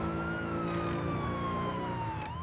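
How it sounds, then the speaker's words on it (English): A police car siren wails steadily close behind a car on the road, its pitch sweeping slowly in a continuous rising and falling tone, loud throughout with no talking. "Uncle Ben, there is a police car behind us."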